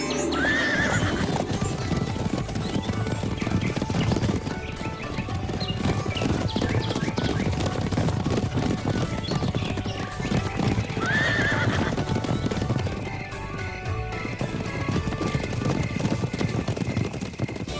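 Cartoon horses trotting with steady clip-clop hooves throughout, joined by two loud whinnying neighs, one near the start and another around the middle, over a continuous background score.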